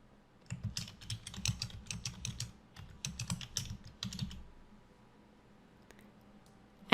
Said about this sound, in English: So I'm going to type the title in here now.